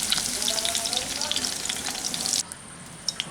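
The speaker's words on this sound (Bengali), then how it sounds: "পনিরগুলো আমাদের হালকা বাদামি করে ভাজা হয়ে গেছে" Paneer cubes fry in hot oil with a dense, bright, crackling sizzle that cuts off abruptly, leaving a quiet room with a few small clinks.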